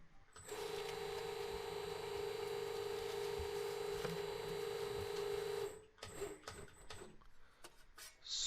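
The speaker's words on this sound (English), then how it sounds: "So let's have a try on the beading machine" An SMA56 beading machine flanging sheet metal gives a steady, loud mechanical whir with a high whine for about five seconds, then stops, leaving scattered clunks and ticks as the part is handled.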